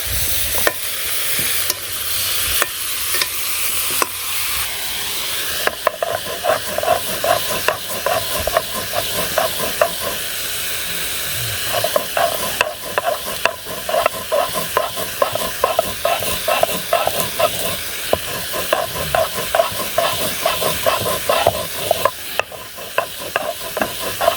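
Chilli powder, turmeric and salt sautéed in a pan in a village kitchen: a steady close sizzle and hiss with repeated scraping stir strokes running throughout, no voices.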